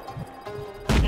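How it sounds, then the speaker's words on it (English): A grenade detonates in Just Cause 3, a single loud, sharp blast that hits near the end after a moment of quieter game noise. "Someone threw a grenade."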